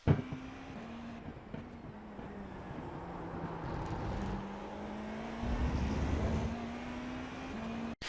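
A GTP prototype race car engine in the iRacing video game drones at high speed at Road America with a steady pitch that rises and dips through gear changes and a corner, no voices.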